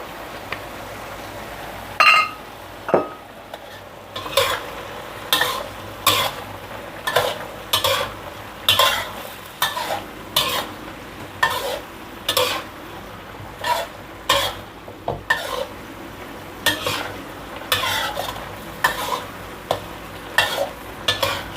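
Mixed vegetables and marinated pork stir-fried in a pan, a steady sizzle broken by rhythmic scraping and clanking strokes of a utensil against the pan, repeating every second or so, close and fairly loud, with an occasional cough.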